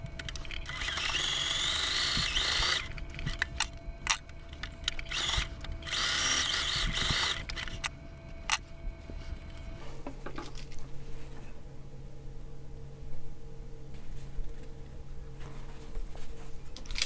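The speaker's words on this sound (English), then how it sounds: "I'm going to just sew right along that line right there" A sewing machine stitches along a marked line on a fitted fabric face mask with a dart and gusset. It gives a close, rattling run of mechanical whirring with short stops, then eases into a quieter hum.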